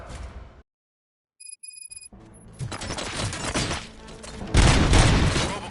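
Gunfire from robots in RoboCop: Rogue City: after a short silence with a few electronic beeps, a loud chaotic barrage of shots, impacts and shattering builds and peaks near the end.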